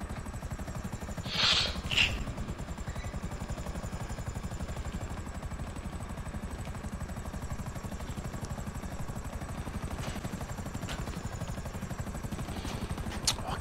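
Helicopter flying in GTA V Online, a steady low rotor thrum with rapid chopping pulses held constant throughout, fairly faint, with a couple of short sharp noises near the start.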